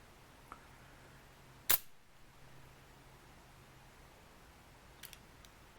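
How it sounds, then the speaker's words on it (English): A budget switchblade knife bought at a gun show snaps its blade out once, a single sharp click in an otherwise quiet room, followed by faint small clicks later. "Kind of a weak ejection on the blade on this one"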